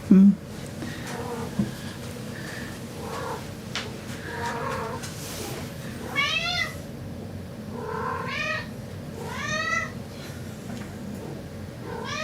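A house cat meows several times in a row, mostly in the second half, each meow rising and falling, moderately close, over a low indoor hum with a voice speaking softly at times.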